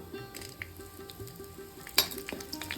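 Green chillies tossed into hot oil with mustard seeds, urad dal and dried chillies for a banana stem poriyal, a light crackling sizzle with frequent metal spoon clinks and one sharp clank.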